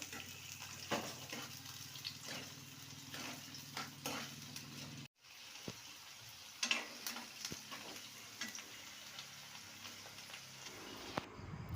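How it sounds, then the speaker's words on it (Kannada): Chopped onions frying in a pan for lemon rice (chitranna), a soft steady sizzle with occasional stirring scrapes and clicks, close by, no voices. "ಈರುಳ್ಳಿ ಸ್ವಲ್ಪ ಫ್ರೈ ಆಗಬೇಕಿದು"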